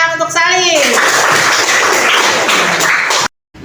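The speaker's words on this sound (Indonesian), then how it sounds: "Tepuk tangan untuk Sali" Classroom applause for a pupil during a teaching practice lesson, students clapping briskly together after a brief voice at the start, loud and close, then stopping abruptly.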